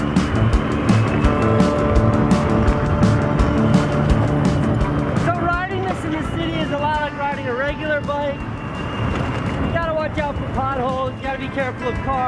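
Car traffic passing close by during a city bike ride, a steady roar of engines and road noise with someone talking over it throughout.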